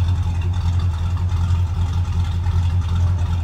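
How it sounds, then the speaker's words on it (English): The exhaust of a 1965 Pontiac Catalina convertible with a 389 tri-power V8 rumbles at idle, a deep, steady, close throb with no one speaking. "Nice deep exhaust note."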